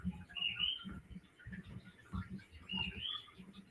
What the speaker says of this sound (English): Do you hear my bird whistling in the background?